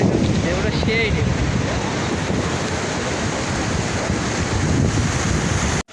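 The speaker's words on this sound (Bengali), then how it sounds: "দেখতে পাচ্ছেন চারদিকে সাগরের শুধু পানির ঢেউ আর ঢেউ," Sea waves surge and crash steadily along a beach on the Chittagong coast, a loud continuous wash of surf mixed with heavy wind buffeting the microphone, cutting off abruptly at the end.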